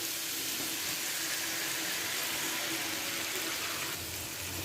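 Marinated ridge gourd sizzling in a pan of cooked-down spices, a loud continuous close hiss throughout with no talk.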